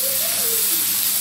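Small shrimp drop into a hot frying pan with salted ingredients, giving off a loud, close, steady sizzle and hiss, with a brief tonal sweep near the start.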